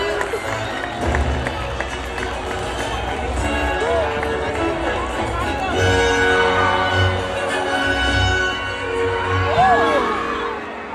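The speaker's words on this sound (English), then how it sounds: "Let's give our brave volunteers a big round of applause." An audience at a SeaWorld killer whale show claps and cheers, with sustained applause and scattered whoops from a large crowd filling the space for the full stretch at steady volume.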